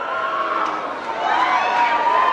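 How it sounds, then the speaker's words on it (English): A large audience at the 2002 MTV VMAs boos Eminem in a sustained, droning wave of voices that swells slightly louder midway and fills the whole stretch. "The crowd is booing, and that's kind of how the audience sounds for the rest of his speech"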